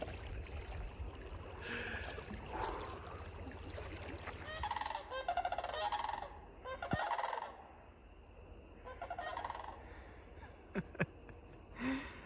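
Loud honking, gobbling bird calls ring out in bursts outdoors at Isle Royale National Park, with a steady rush of running water in the background and no talking.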